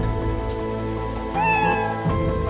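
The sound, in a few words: cat meowing in a video game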